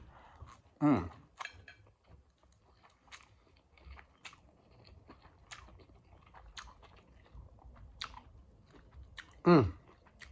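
Someone chews American Chinese food, including Singapore mei fun, at a mukbang dinner in a living room, with soft close-up mouth sounds, faint ticks and two louder crunchy bites.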